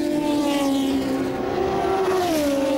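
Hot Wheels Action Arena Super XV Racers toy cars, Mattel, in an 1980s commercial: a continuous loud, high-pitched buzzing race-car engine whine, steady with slight pitch dips, filling the whole moment.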